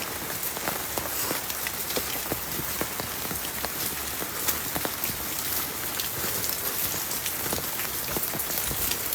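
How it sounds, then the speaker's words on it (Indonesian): Rain falls on the forested slopes of Gunung Salak in a dense, even patter, with close individual drops ticking sharply on surfaces throughout. "Wih, hujannya."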